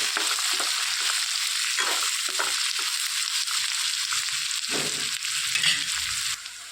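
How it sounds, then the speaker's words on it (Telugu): Curry leaves and finely chopped onions fry in a pan for a bitter gourd dish, making a loud, constant sizzle. Repeated scraping stirs run through it, and the sound drops slightly at the very end. "సన్నగా తరిగి పెట్టుకున్న ఉల్లిపాయలు వేసేసుకోవాలి. వేయించుకోవాలండి మొత్తం."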